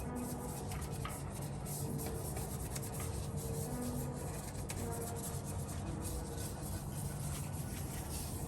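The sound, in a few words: detailing brush scrubbing during Tesla Model Y rinseless wash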